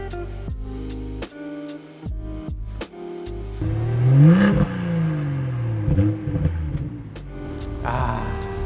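A BMW M240i engine revs up hard, its pitch climbing and falling through several loud, close throttle blips with a raspy exhaust note and some clatter.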